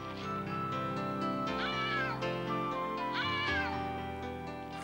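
A kitten mewing in a cartoon, two drawn-out, wavering high meows a second or so apart, clear and close over a bed of soft background music, with no talking.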